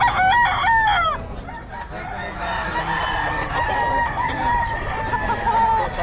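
A rooster, a white kelso stag at the Bocaue pet market, crows loudly and close in a single long call, followed by the busy background of other fowl clucking and crowing in the market.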